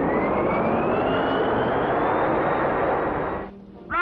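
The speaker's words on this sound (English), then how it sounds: "Activate landing generators." A cartoon spaceship's landing generators switch on with a loud, sustained roaring whoosh and a slowly rising whine. The roar drops off abruptly and is followed by a brief rising electronic tone.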